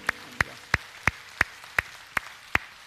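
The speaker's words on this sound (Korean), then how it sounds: "우리 하나님께 영광의 박수 올리겠습니다." A church congregation claps in unison: eight crisp, evenly spaced claps about a third of a second apart, steady and moderately loud over a quiet room.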